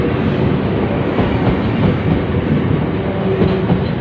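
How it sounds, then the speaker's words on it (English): Train 458503 passes Clapham Junction with a steady, loud rumble of wheels and clatter that runs throughout, with no pauses. "this is 458503, working the service to London Waterloo from Reading or Staines."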